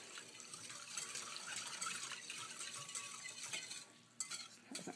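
A spoon stirs sugar and pickling salt into liquid for refrigerator sweet pickles, producing faint, continuous swishing and light clinking against the container, quiet and steady with no talking.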